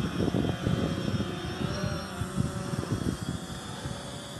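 A camera drone flown with the Litchi app takes off and climbs. A loud, steady buzzing whir rises from close by, with gusty low rumble and small fluctuations throughout.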